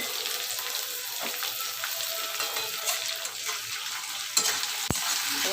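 Chicken frying in a pan: a continuous close sizzle broken by occasional scrapes and clinks as it is stirred, with one sharp knock near the end and no talking.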